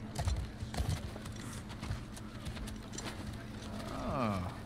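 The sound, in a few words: horse hooves clip-clop in video game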